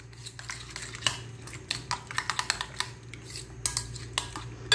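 Mutton mixed with spices and milk in a pot: a quiet run of sharp spoon knocks and scrapes against metal, irregular then quickening into a rhythmic series of taps, with no voices.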